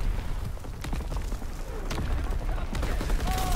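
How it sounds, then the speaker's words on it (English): Artillery barrage in the WWII shooter game Call of Duty WWII: scattered distant booms and sharp gunfire cracks over a continuous rumbling battlefield din, with a faint voice briefly underneath. "I think my screen was shaking from the artillery barrage."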